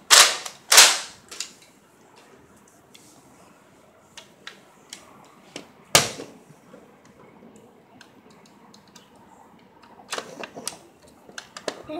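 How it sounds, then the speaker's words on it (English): Sharp snapping shots from a toy cap gun, a few loud pops at the start and midway, with lighter clicks and bursts of pops scattered in between. "This gun right here."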